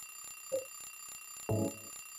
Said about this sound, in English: Oh no, it's an alarm clock.